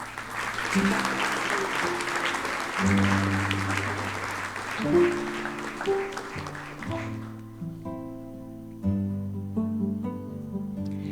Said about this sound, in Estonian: Nüüd aplaus